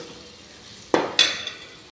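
A quick sizzle as spices hit hot oil, two short crackling bursts that fade quickly, close and fairly quiet.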